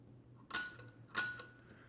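Two crisp mechanical clicks from the shutter of a 1913 Manufrance Ticket Luminor f5.8 folding camera fired at 1/100 second, close and isolated against a faint background hum, spaced about two-thirds of a second apart.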